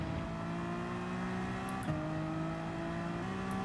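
A race car engine in Gran Turismo 7 at Watkins Glen, running in a slipstream, holds a steady tonal drone with two quick gear-shift steps, moderately loud and alone.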